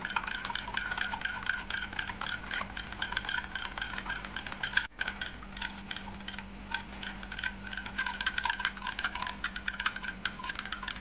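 Yogurt mixed with turmeric and other spices is stirred by hand in a bowl, making soft, irregular clicks and scrapes at close range. Partway through there is a brief dropout.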